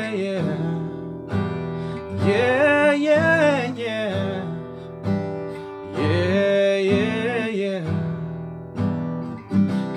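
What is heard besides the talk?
acoustic guitar single strum on each beat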